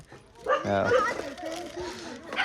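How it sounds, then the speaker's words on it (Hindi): A dog barks and yips amid a scuffle with monkeys, short sharp barks up close mixed with excited voices and background chatter. "कुत्ता और बंदर में लड़ाई"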